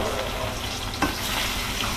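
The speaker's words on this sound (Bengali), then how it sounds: "এবার মাছগুলো একে একে ভেজে নেবো।" Rohu fish pieces fry in hot oil with a continuous, close crackling sizzle, and a single brief clack lands midway through.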